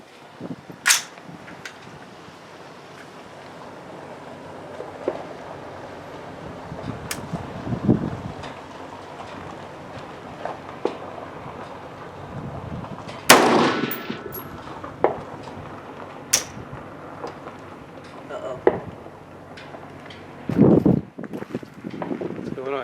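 A Springfield Armory Saint rifle firing Aguila 5.56 ammunition from an Amend magazine on a range; a few loud, sharp reports spaced far apart, with people talking in between.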